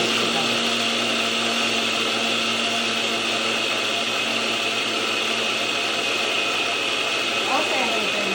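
A blender grinds rice into flour, a loud continuous high-pitched whir that stays steady throughout with a faint voice underneath.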